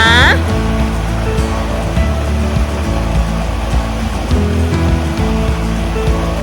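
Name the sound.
waterfall flowing down, Pu Kaeng waterfall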